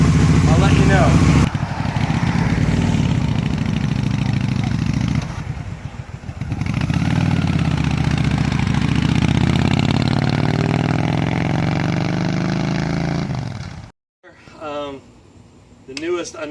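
Motorcycle engine idling steadily while warming up before its first ride after carburetor work, a loud continuous low rumble for most of the clip that cuts off near the end, followed by brief talking.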